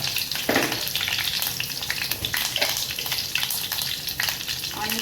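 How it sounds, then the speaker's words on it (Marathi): Curry leaves and mustard seeds frying in hot oil for tempering, giving a loud, close, crackling sizzle with quick popping bursts and occasional stirring throughout. "आता टाकूया आपण कढीपत्ता बघा थोडासा राई टाकायचा आहे"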